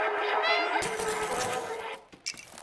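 A cat meows in the video game Stray, a drawn-out tonal cry over busy, dense game sound, with a voice speaking toward the end.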